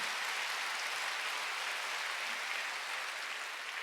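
Congregation clapping during a Sunday worship service in a church, a steady, dense wash of applause filling the room without pause and no voices standing out.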